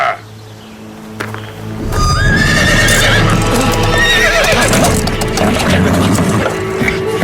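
A horse whinnies loudly and repeatedly, close by, while hooves clop and shuffle on a hard surface and wood knocks in the background.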